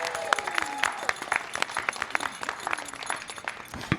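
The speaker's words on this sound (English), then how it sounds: "Can we give another round of applause for all of our panelists this afternoon?" An audience at a Boston poets' panel gives a short round of applause for the panelists, with scattered, moderately close claps.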